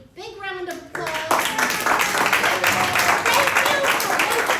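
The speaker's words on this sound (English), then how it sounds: "Let's give Cato a big round of applause." After a brief voice at the start, a school talent show audience breaks into loud, dense clapping and applause that holds steady to the end.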